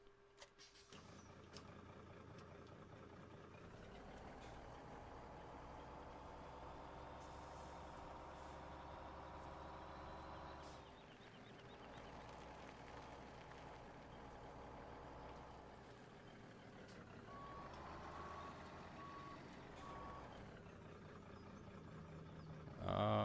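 A truck in Farming Simulator 17 idles and revs with a steady engine drone, the pitch rising and falling a few times. A faint repeating tone sits over the engine throughout, heard close and continuous.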